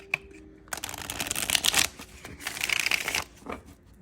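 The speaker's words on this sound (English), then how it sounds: "But I'm going to shuffle one more time" Oracle cards being shuffled by hand for a reading, two bursts of crisp riffling and flapping, close and fairly loud, with no talking.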